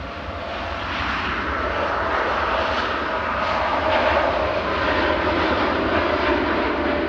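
A Boeing 787-8 airliner departs Manchester Airport with a steady, loud engine roar that holds broad and even throughout, with no voices over it.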